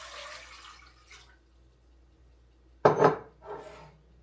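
Four cups of water poured into a cooking pot in a homestead kitchen: faint clinks, then a quiet pause, then a short, splashy pour and a second smaller splash.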